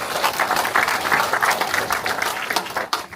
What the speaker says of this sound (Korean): 감사의 박수 한번 크게 부탁드리겠습니다